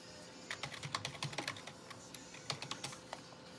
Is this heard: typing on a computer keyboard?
yes